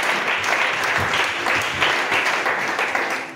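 A church congregation applauding to acclaim God, with dense, sustained clapping from many hands filling the room at an even level from start to finish.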